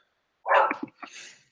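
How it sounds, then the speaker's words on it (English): Bailey the dog lets out a short, loud close bark, followed by a couple of quick softer yips and a breathy tail, alone in a quiet room. "It's Bailey barking."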